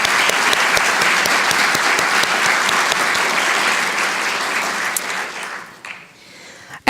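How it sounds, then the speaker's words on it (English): Sustained applause from an audience honoring volunteers at a Minnesota National Girls and Women in Sports Day event, loud and dense for several seconds before tapering off to a few scattered claps. "So I wanted to give them a round of applause for helping make this possible."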